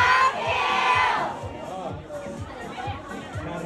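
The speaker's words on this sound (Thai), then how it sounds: "ให้ตะโกนดังๆบอกว่า Love Kill ซีนุ่นนิว" A fan crowd at a ZeeNunew event at Central Ladprao, Bangkok, gives a loud, nearby group shout for about a second. The shout then fades into a busy murmur of crowd chatter with scattered calls.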